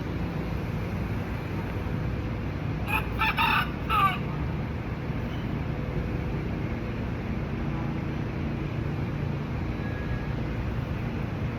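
A rooster crows once at a distance in Miami over steady low outdoor rumble, the call brief and somewhat faint against the background noise.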